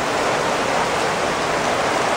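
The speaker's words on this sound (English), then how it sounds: "That's a big old downpour of rain right there." Heavy summer downpour of rain outdoors, a loud, dense, unbroken hiss that holds steady throughout, close by and with no voices over it.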